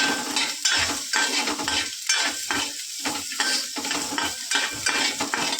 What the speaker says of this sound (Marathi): कांदा, लसूण आणि खोबरं मस्त भाजून घेऊया.